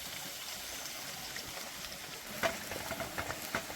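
Onions fry in oil in a pan alongside cashews and raisins, a quiet close bubbling sizzle with a few sharper crackles and stirring clinks toward the end.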